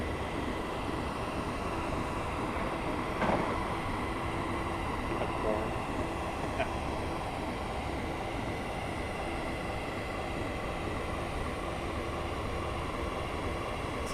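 Passenger view of a train running from London to Swansea in Train Simulator 2016: a steady, loud, continuous rumble of wheels and carriage noise throughout, with occasional faint clicks and talk over it.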